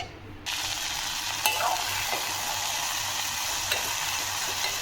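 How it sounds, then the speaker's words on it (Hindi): Okra frying in a cooking pot, a constant close hiss of sizzling oil with a low steady hum underneath and a couple of faint clinks, no one speaking. "भिंडी मैंने बघाड़ दी है, अभी भून रही है ज़रा"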